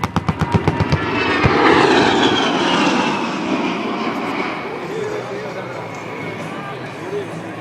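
An A-10 Warthog jet roars loudly past at an airshow in Abbotsford, B.C., opening with a rapid series of sharp bursts before settling into a sustained, slowly fading engine rush.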